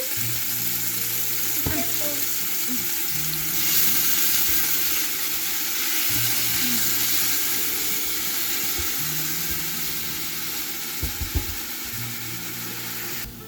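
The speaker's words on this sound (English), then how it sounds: "here we are sauteing the onions and the tomatoes" Onions and tomatoes sauté in a Ninja Foodi multicooker, giving a steady close sizzle with a few soft clicks and stirring knocks throughout.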